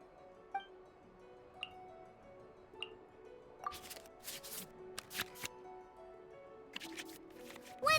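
Digital cards in the Genius Invokation TCG card game are shuffled back into a draw pile, with quick papery riffles and flicks after a few soft chimes, faint and close with no voices.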